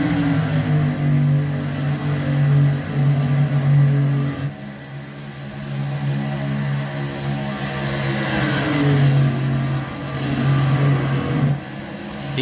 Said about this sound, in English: All I was trying to do was get around Max in this 3 truck and take that lead.